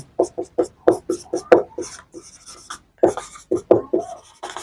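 Marker strokes on a classroom board while labelling heart layers, a rapid series of short squeaky scratches in bursts with a brief pause midway, close and clear with no talk over them.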